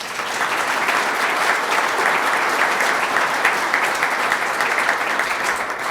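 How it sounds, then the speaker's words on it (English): A meeting audience of the Mining Alliance gives a sustained round of applause, a thick, even wash of many people clapping at steady loudness for six seconds without any speech. "I think we should actually give a round of applause for Kathy Arnold"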